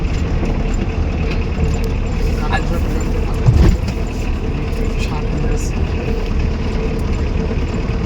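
A car engine runs steadily during a driving lesson in Chuadanga with the car in second gear, a continuous low rumble heard from inside the cabin, with a brief louder bump midway.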